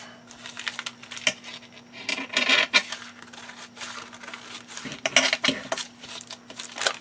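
Paper being cut off for a junk journal with scissors, a series of short crisp snips and rustles close up, with light clattering handling noises and no talk.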